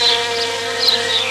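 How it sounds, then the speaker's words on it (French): A honeybee buzzes in flight close by, a steady, high, droning whine that swells and fades slightly as it moves, with nothing else audible. "L'abeille vole à la vitesse phénoménale pour sa taille de 3 mètres à la seconde"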